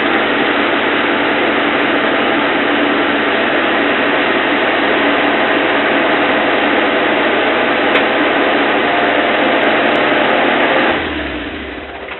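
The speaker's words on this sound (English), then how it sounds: "I'll just turn this car off." A car engine idles steadily with a constant low rumble, close and loud, then cuts off near the end.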